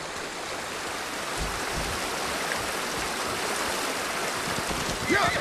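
A river flows steadily inside the Ghost of Tsushima video game, a broad continuous rush of water that keeps an even level throughout with no talk over it.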